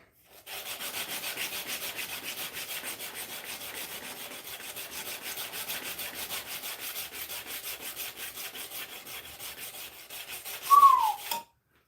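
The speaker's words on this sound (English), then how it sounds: "hand sanding is very tedious and time consuming" A knife blade is hand sanded in long rhythmic back-and-forth strokes, a steady close scratching that keeps an even pace, ending with a short whistle-like squeak.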